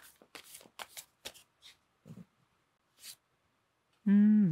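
Tarot cards being shuffled at close range in a run of quick, crisp riffling bursts. A brief tonal voice-like sound follows at the end.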